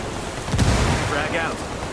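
A frag grenade blast in the game Ghost Recon Wildlands, one brief low booming burst that fades quickly, close and loud.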